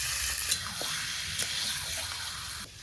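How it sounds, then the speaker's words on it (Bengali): Chicken pieces with the skin on fry alongside onions in a pan, a steady close sizzle with spattering crackle and occasional stirring scrapes throughout. "চিকেনের সাথে সাথে পেঁয়াজও ভাজা হয়ে যাবে"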